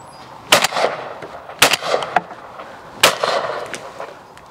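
Three loud shotgun blasts from a semi-automatic shotgun fired at clay targets, each sharp crack followed by a short echoing tail, spaced about a second and a half apart, with no talk.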